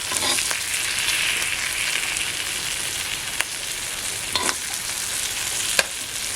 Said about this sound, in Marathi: निखाऱ्यावरती मच्छी फ्राय होते